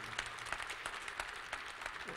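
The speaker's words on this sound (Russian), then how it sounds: "Я думаю, что аплодисментами мы поддержим его." Applause at the opening ceremony of the fifth Kursk Cup at the CKK Arena, fairly faint and distant, an even patter of many hands with no voices on top.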